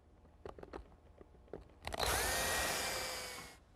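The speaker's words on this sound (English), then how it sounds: "I want the saw to trim it, and that'll give me an accurate guide for cutting future panels" A power saw is trimming a panel at a table saw station. A few light knocks and taps come first, then the motor spins up and the blade cuts with a loud, sustained whine for about a second and a half before stopping.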